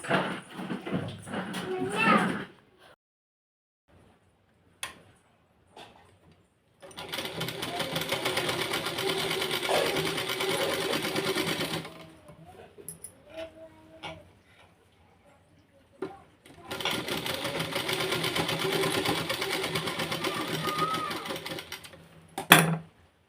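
An electric sewing machine stitches darts on a blouse in two long whirring runs of about five seconds each. Brief speech and handling noises come before and between the runs.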